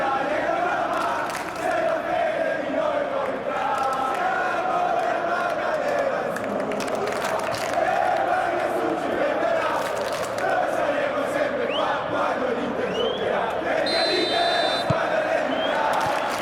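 A football stadium crowd murmurs and roars in a dense, continuous wash of voices, with scattered shouts and whistles rising through the steady din of thousands of fans at a tournament match.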